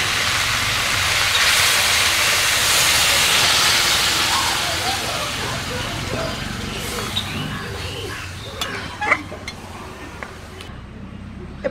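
Hot water is poured into a hot pot of meat cooking with elephant foot yam, raising a loud, steady hiss of steam and sizzling. The sound gradually settles into quieter bubbling with scattered crackles and pops.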